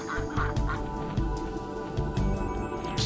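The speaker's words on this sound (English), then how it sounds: "Then less cool are the Canadian geese." Canada geese in the Frogger video game honk in short, repeated electronic bursts over a steady looping game soundtrack, fairly loud and even throughout.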